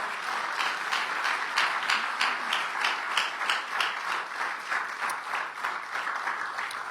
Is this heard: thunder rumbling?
no